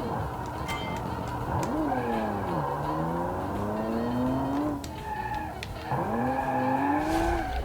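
Piranha 75 TB car from the Automation game revving hard on a small test track, its engine pitch sweeping up and down repeatedly with a sustained, loud in-game roar and brief tire noise, no talking.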